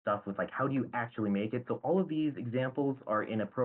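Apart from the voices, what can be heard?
No everyday noises stand out.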